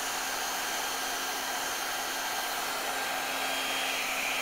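A heat gun with a precise nozzle shrinks a heat shrink boot lined with epoxy adhesive, giving a steady, continuous airy blowing whir with a faint hum, heard alone at a moderate level.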